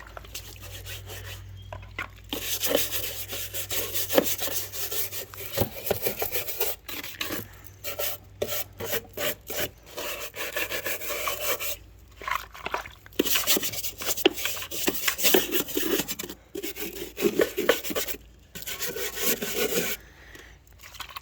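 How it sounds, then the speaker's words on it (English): A large scrub brush scours wet grass and dirt from a lawn mower deck in repeated bursts of harsh, close rubbing strokes, with short pauses between them. "Get a bigger scrub brush."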